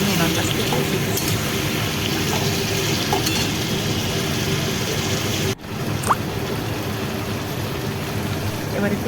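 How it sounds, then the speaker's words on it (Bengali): Chicken sizzles steadily in a hot pan as it is stirred and sautéed for a Dhaka-style kosha curry, a continuous frying hiss with occasional spoon scrapes and a brief pause midway. "15 মিনিট ধরে মাংসটাকে ভালো করে কষা হলো"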